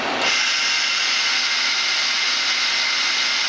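The main and sub spindles of a Citizen M16 CNC Swiss lathe spin up to 5,500 RPM, a bright, steady, close whine starting abruptly and holding level to the end.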